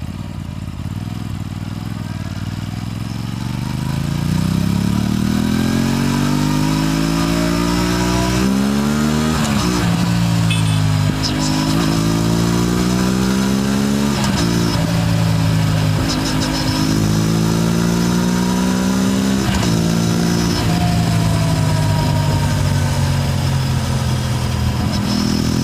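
An Aprilia RS457 motorcycle's exhaust, loud and close, idling then revving repeatedly in rising and falling sweeps, with short crackling pops on the throttle closes and faint traffic behind.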